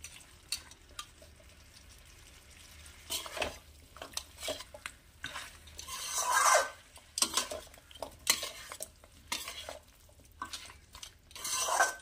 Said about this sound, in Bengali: এবারে লো ফ্লেমে এটাকে একটু নাড়িয়ে চাড়িয়ে কিছুক্ষণ ধরে রান্না করতে হবে